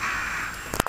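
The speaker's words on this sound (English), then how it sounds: "There's so many birds." Crows cawing in a brief burst near the end, a few sharp calls over a steady background hiss.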